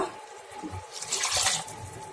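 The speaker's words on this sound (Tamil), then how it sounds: "இன்னும் கொஞ்சம் தண்ணி சேர்த்துக்கிறேங்க" Soft splashing of water being poured into crab gravy, a steady gentle trickle with no voices.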